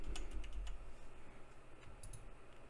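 A few quiet, scattered keystrokes tap on a computer keyboard, with a short cluster at the start and another pair near the end, over a low hum.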